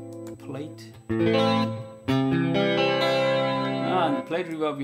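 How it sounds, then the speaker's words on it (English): A guitar through a Valeton GP200 rings out sustained chords washed in bright, dense plate reverb with high damping, warbling modulation and long shimmering tails between strums. "And the plate reverb, we have the high damp."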